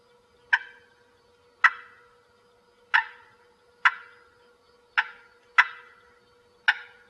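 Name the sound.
turkey call imitating turkey yelps, hand-cupped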